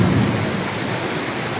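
In Chittagong, heavy rain pours down in a dense, steady wash while a low rumble of thunder rolls beneath it and fades.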